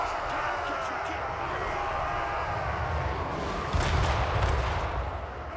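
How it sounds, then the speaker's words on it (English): Tanks firing in a Total War Warhammer 3 battle against dwarf armies, a dense rumbling wash of gunfire and artillery with a heavier burst of blasts near the end, loud and continuous. "And my tanks are also now firing"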